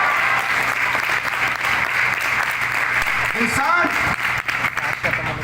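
A crowd at a career-guidance program in Amaravati applauds to welcome the speaker, with dense, loud, continuous clapping throughout and voices rising over it.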